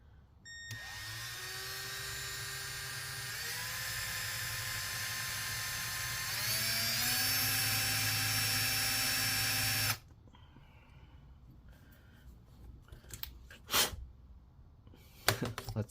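A power drill runs steadily in its faster mode while a 2022 M2 MacBook Air A2681 is being taken apart, a loud continuous whine that steps up in pitch partway through, then stops, followed by faint handling clicks and rustles.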